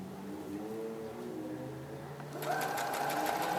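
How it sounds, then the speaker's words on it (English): Sewing machine running steadily as it stitches an armpit seam on a sleeve, with a brief hum before the motor speeds up and whirs louder and faster near the end, close by with no talking. "I'm getting ready to sew the armpit completely."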